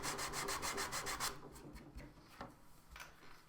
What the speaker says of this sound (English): I can sand that part smooth.